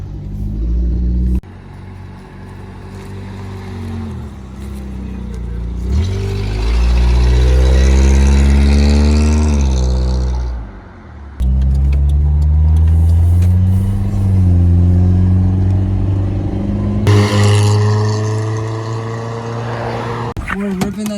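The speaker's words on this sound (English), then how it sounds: "All right, we're going for a little cruise in the 86." A Toyota 86 cruising down a street, its engine droning loudly from inside the cabin and rising through several revving pulls with a brief lift between them, while people talk over the rumble.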